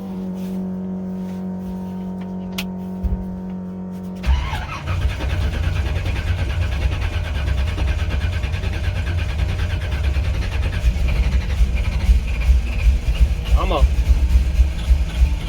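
A car engine, freshly fitted with battery terminals, fires up and runs rough and uneven at close range, with a steady low rumble and a brief voice partway through.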